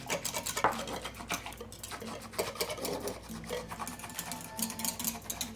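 A spoon stirs granulated sugar into warm water close by, giving a steady rhythmic clinking and scraping against the bowl.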